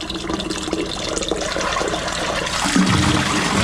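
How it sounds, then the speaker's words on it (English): Water rushes steadily and close as a toilet flushes paper and all down a freshly cleared drain, building in force toward the end with a gurgling swirl. "Flush another one on the count of 3."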